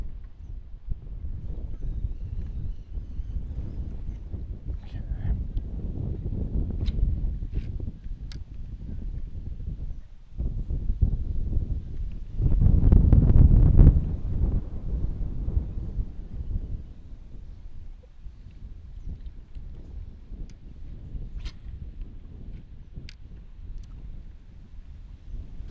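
Wind gusting across open water during a fishing outing for largemouth bass, a steady rumbling rush that swells into a louder buffet near the middle, with faint clicks and knocks scattered throughout.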